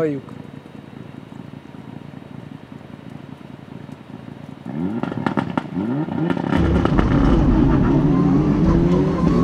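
A Mitsubishi Lancer Evolution IX N4 rally car engine idles with sputtering pops, then revs harder and louder with crackling bursts toward the end.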